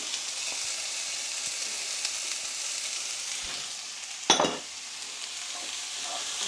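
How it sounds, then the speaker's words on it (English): Chopped pepper and diced carrots sizzle in a pan for a chicken and sweetcorn lasagne sauce, a broad steady hiss with one loud clatter of a spoon against the pan midway; no talking. "I'm going to add my chopped pepper and my diced carrots"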